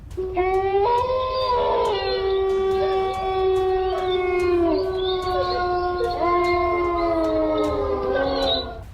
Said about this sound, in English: what makes this video even creepier is the unexplained howling.